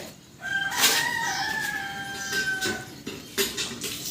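A rooster crows loudly nearby, one long drawn-out call, with faint background noises around it.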